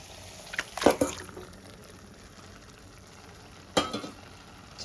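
Chicken hits hot spiced masala in a pan with two sharp bursts of sizzling and frying, then a quieter bubbling simmer between them, close and without talk.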